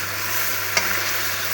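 Chicken fries on a high flame for biryani, sizzling steadily and close in hot oil, with a single brief scrape of a stirring spoon partway through.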